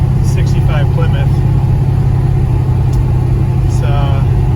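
A 1965 Plymouth Belvedere with a 512 cubic inch stroker engine idles with a steady, slightly rattly low rumble, while someone talks over it nearby.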